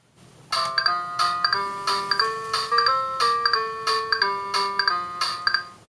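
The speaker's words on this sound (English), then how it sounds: "connect my VR1 to one of the inputs to see if we get any sound" A Casio AS-20 keyboard amplifier from 1985, wired with bare clips to its speaker cable, plays a keyboard melody alone: about a dozen bright, bell-like notes in a steady rhythm, each with a sharp attack and short ring, ending in a sustained note.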